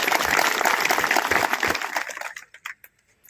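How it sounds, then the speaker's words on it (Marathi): A crowd applauds at a public government event, loud dense clapping that thins and fades out after about two and a half seconds, leaving a few scattered claps. "त्यांचं आपण तिथं टाळ्या वाजवून इथं स्वागत करायचं आहे."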